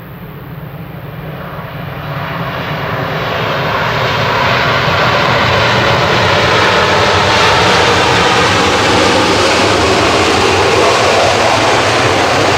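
Jet airliner HLYJ roars on its takeoff run at Manchester Airport bound for Palma, a broad engine rumble building steadily from moderate to loud and holding strong throughout.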